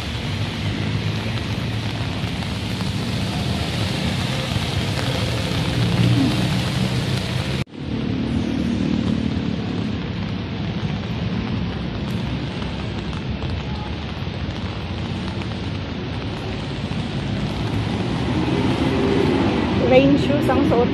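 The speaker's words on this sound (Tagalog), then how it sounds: "Lumalakas ang ulan." Heavy rain pouring steadily outside Ayala Malls, a dense close hiss that holds throughout, broken by a sharp crack near the middle, with faint talk underneath.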